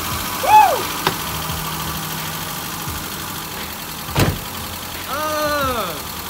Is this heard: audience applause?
no